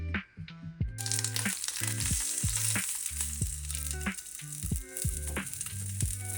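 Food sizzles steadily in a pan with a bright continuous crackle, close and fairly loud, broken by a few light clatters, while background music plays.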